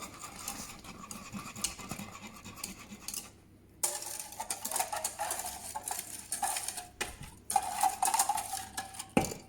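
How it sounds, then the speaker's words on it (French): Hot milk poured into a bowl and stirred in for crème pâtissière, with close clinking and scraping of a whisk or spoon against the bowl in uneven bursts and a brief quiet gap partway through. "Et on verse tout ça là-dedans en remuant."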